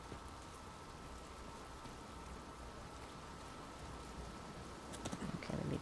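Continuous rain or waterfall roar in the Uncharted 4 video game, an even wash of hissing water that swells slightly near the end.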